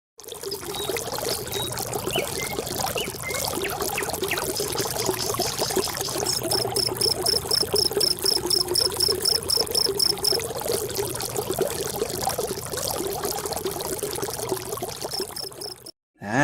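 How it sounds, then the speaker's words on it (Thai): Steady rushing, splashing water from a waterfall fills the whole stretch, continuous and fairly loud, with a faint high chirping running through the middle. "เสียงที่เราได้ยินเมื่อกี้นะครับ เป็นเสียงของน้ำตกนั่นเอง"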